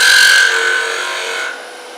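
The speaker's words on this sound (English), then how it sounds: "I'll come over here and I'll make a little dimple in here." A woodturning tool cuts a small dimple into wood spinning on a lathe, a steady close scraping hiss that starts loud, eases off, and thins out after about a second and a half.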